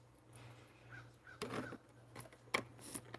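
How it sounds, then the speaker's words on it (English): Crows caw outdoors in a few short, fairly close bursts over a quiet background, with no talking. "Caw-caw, birds confirmed."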